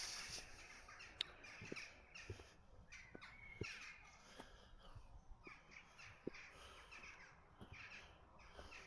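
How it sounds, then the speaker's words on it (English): Crows cawing from a church bell tower in a small French market town, repeated harsh caws and squawks at a distance over quiet outdoor ambience. "it looks like the crows are all living in that bell tower"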